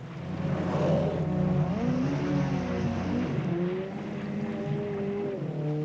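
An outboard engine on a Zodiac inflatable boat at sea drones loudly and steadily nearby, its pitch sliding up and down as it is throttled, then easing lower toward the end.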